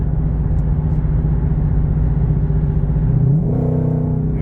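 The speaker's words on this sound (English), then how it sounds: "I just think that this exhaust note in this car is just so neat" Ford GT500 exhaust droning loud and close under load, a steady low rumble that climbs in pitch near the end as the engine revs up.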